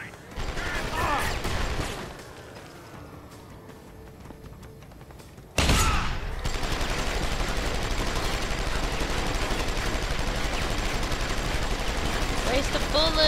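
Sustained gunfire in the stealth-action game Deus Ex: Human Revolution, loud and continuous after a sharp burst midway, following a quieter stretch; a voice speaks briefly earlier.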